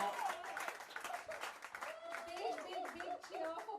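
An audience at a promotional event for a Bollywood single claps steadily and cheers in a dense, continuous burst, with a few voices calling out over the applause.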